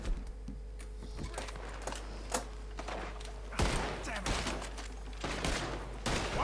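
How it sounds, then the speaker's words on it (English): A Red Dead Redemption 2 shootout rattles with scattered gunshots and quick volleys, some near and punchy, others lighter, over a steady low rumble. "Looks like we're shooting our way out of here"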